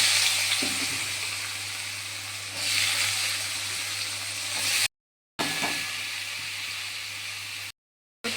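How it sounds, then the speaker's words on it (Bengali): Beetroot, carrot and pumpkin pieces fry in hot oil, giving a steady close sizzle and hiss throughout with a few soft stirring scrapes, broken by two short silent gaps. "ওই তেলেই বসিয়ে দেবো বিট, গাজর আর কুমড়ো দিয়ে ভাজা।"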